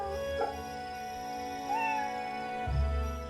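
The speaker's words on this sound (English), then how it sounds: "Even the cat was hissing at us." A cat in the samurai-era action game Fate/Samurai Remnant lets out a short meow over steady game music, followed later by a low thump.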